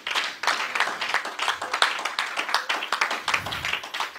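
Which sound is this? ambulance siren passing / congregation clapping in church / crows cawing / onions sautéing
congregation clapping in church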